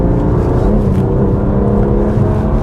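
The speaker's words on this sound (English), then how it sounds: "We've got that slightly louder exhaust note. A little bit more engine noise being packed into the cabin as well" A BMW M2 Competition's engine and exhaust with the valves open drone steadily and loudly inside the cabin, a continuous low rumble without any change in pitch.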